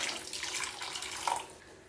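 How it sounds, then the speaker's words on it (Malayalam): Water pours steadily into a pot of Kerala sardine curry for about two seconds, a continuous splashing stream with a brief brighter gush near the end, heard alone with no talk. "കുറച്ചുകൂടി വെള്ളം ഒഴിച്ച് കൊടുക്കാം."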